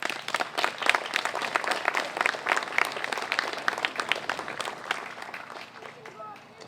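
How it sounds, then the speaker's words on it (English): Applause from an audience at a ceremony honoring Oregon first responders, a dense sustained clapping that holds steady, then thins slightly near the end. "I think I'd like to give those folks for those cardiac arrests another round of applause"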